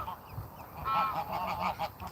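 Geese resting on a beach give a run of soft, nasal honks close by, several calls in quick succession over a low outdoor background.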